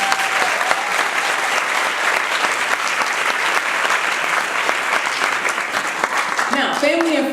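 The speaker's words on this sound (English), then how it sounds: "I think we should give them a round of applause" Sustained applause from a large audience at a University of Houston Downtown MBA commencement ceremony, steady and loud throughout, with scattered cheers and a voice starting to speak at the very end.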